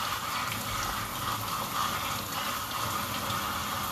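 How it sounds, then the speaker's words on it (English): Tap water runs steadily into a kitchen sink while a dishwasher part is rinsed under the stream, a continuous close splashing gush without pauses. "bring it over to the sink, get some water running, and rinse this thing out"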